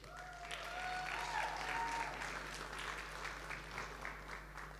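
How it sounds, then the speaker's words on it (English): Audience applause at a forum session on displacement: a crowd claps steadily for a few seconds as a dense, even patter of hands at a moderate distance, with faint voices underneath. "Let's give Ines a round of applause."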